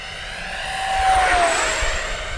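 ARROWS Hobby MiG-29 Fulcrum RC jet flying over a grass field, a steady high whining engine with a rising tone that swells louder as it passes near, then holds, with no talk.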